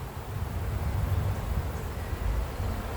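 Honey bees at a beehive being smoked by a beekeeper make a steady, dense buzzing hum that stays close and even throughout, with no voices.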